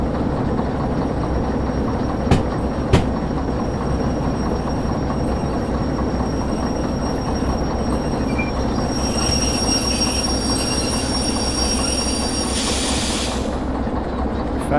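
A runaway train rolls on along the track in the video game Derail Valley, a steady loud rumble of wheels and carriage noise, with a couple of sharp clanks early on and a brief squeal near the end.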